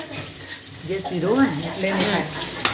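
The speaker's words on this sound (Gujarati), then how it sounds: "આ બાજુ તેલ મુકાઈ ગયું છે, લસણ। બસ હવે વઘાર ચાલુ થાય છે।" Garlic tempering sizzles steadily in hot oil in a pan while a person talks over it, with a light clink near the end.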